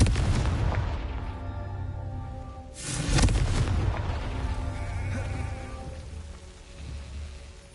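A Confringo fire spell blasts in the video game Hogwarts Legacy, a single loud burst near the middle rising out of a steady buzzing, humming game background.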